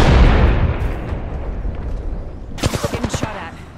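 Apex Legends firefight: a heavy blast at the start rumbles and fades, then a quick run of loud, close gunshots crackles near the end, with no talking over it.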